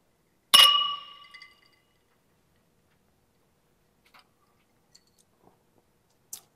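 Glasses clink once sharply in a toast with Monkey Shoulder whisky, a bright ringing chime that fades over about a second, followed by quiet small ticks and a faint clink near the end.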